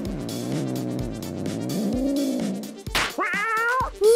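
A cat meows and caterwauls loudly up close, drawn-out yowls followed by a couple of sharp, rising cries.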